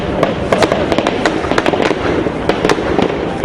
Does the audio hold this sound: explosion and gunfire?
yes